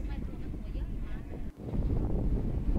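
Wind buffets the microphone on the upper deck of a ferry travelling from Bangkok toward Koh Samui, producing a continuous low rumbling roar that dips briefly in the middle and then surges back stronger, with a voice talking faintly underneath.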